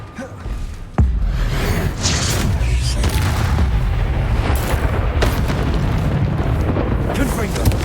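A Confringo spell explodes with a sudden loud boom in the Hogwarts Legacy video game, then a sustained roaring, crackling blast and rumble continues with further bursts.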